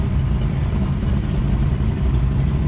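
Ford GT500 engine droning steadily and loudly through a 1-2 gear shift under hard acceleration, a dense low rumble that holds without a clear break.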